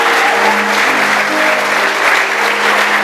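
A church congregation at a sermon on parents' prophetic blessing breaks into loud, dense, sustained applause, with low steady musical tones humming underneath.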